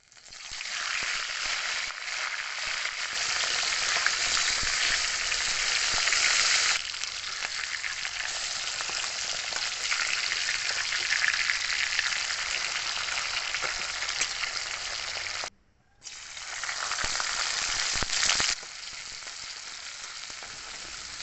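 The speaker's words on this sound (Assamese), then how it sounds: "এতিয়া মাছৰ মাথা কেইপিচ নিমখ আৰু হালধি দি ভালদৰে ফ্ৰাই কৰি লম" Fish heads seasoned with salt and turmeric fry steadily in hot oil, a loud, dense, continuous sizzle with faint stirring scrapes and one brief drop-out near the end.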